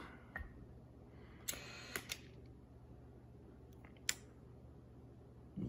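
A Sony A-mount camera with a screw drive focus motor powers on with a few faint, quiet clicks and a brief mechanical whirring burst, heard close up in a quiet room.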